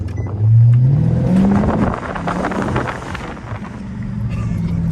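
A tuned 5.7 Hemi car accelerates hard, its loud engine note climbing steeply in pitch over the first second and a half before settling into a steady, rough roar with wind buffeting on the microphone.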